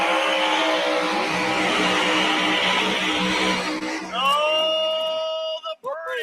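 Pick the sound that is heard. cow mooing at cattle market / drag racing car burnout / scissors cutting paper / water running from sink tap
drag racing car burnout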